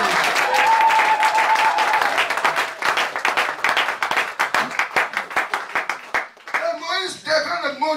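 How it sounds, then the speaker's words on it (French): A church congregation claps and cheers for the Lord during a French-language sermon, loud sustained applause with rhythmic hand claps that thin into scattered claps before voices and a child's speech rise at the end. "Acclamez pour le Seigneur."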